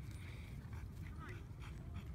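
A playful dog, in a household with a Newfoundland, Great Dane, Pit Bull and Bandog playing together, whimpers and gives soft yips over a steady low background rumble, fairly quiet and close.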